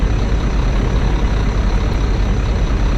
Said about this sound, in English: The problem here is the C2s is you can really hear the engine fan well.